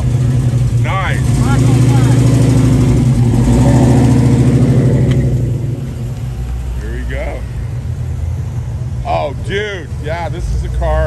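A 1966 classic car with a 396 engine idles at a car show, its low rumble loud and steady under people talking nearby.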